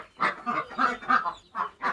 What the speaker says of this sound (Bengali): হাঁসগুলো।